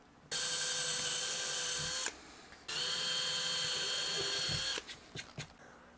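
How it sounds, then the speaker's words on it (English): A small hand-held power drill with a 2 mm bit bores pilot holes for the controls in a guitar body, giving two steady whining bursts separated by a short pause, followed by a few light clicks and taps. "I'm going to take my little hand drill with the 2 millimeter bit in it, and I'm going to drill some pilots for my controls"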